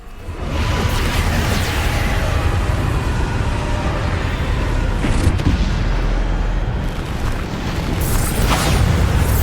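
Explosive Bombarda spell blasts in Hogwarts Legacy battle, a dense, sustained roar of booming impacts and rushing whooshes filling the scene at high level throughout.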